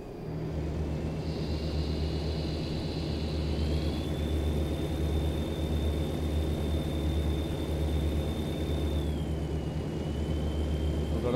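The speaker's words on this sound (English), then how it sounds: "Love the sound of these trucks." Truck engine in American Truck Simulator, a steady low droning rumble with a constant whine above it, heard alone at moderate level throughout while the truck cruises.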